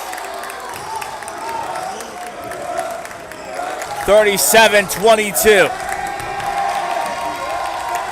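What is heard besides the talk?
crowd cheering for Laredo Alexander at basketball game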